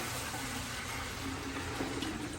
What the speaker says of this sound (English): I'm going to dump this lovely red water in here.